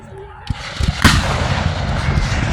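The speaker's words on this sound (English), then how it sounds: "Was those cannons there?" Cannon fire at a Civil War battle reenactment at Old Bedford Village: a few distant thumps, then one loud booming blast that rolls into a long rumbling echo, with voices faintly beneath.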